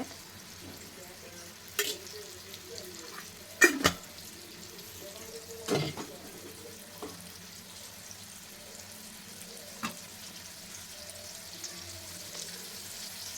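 Bangda mackerel frying gently in oil over a low flame, a soft steady sizzle in a quiet kitchen broken by a few sharp clicks and clinks of utensils.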